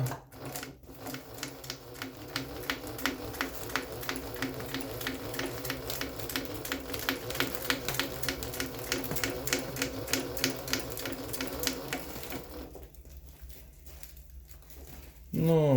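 A YUO TIAN GK-35C2 bag-closing sewing machine with a size 250 needle stitches through two layers of woven big-bag material, giving a rapid, steady mechanical clatter of stitches for about twelve seconds before it stops abruptly near the end.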